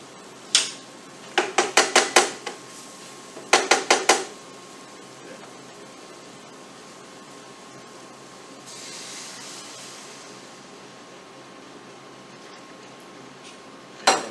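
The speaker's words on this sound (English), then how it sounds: "Use a whisk to break all that, the lumpy roux up." Quick bursts of metal whisk rattling against a pan as milk is worked into a lumpy roux, two clustered runs of clicks over a steady background hiss, then a softer swishing.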